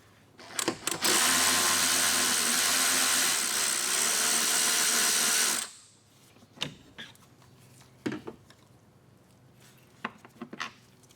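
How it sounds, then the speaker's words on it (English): Power tool whirring loudly and steadily for about five seconds while removing an 8mm bolt from the radiator shroud of a 2004-2008 Ford F-150 5.4L, then stopping, followed by a few scattered clunks and clicks of handling parts. "removing 2 8mm bolts located on each side of our radiator"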